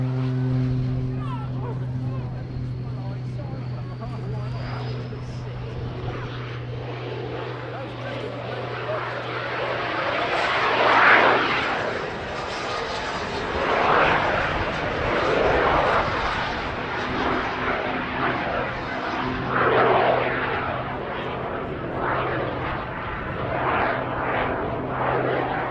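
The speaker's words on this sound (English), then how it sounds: "See what I mean? Jet noise from a biplane." A jet-powered Pitts biplane flying at the Duxford airshow, its jet engine roaring steadily, swelling and fading as it moves through the sky.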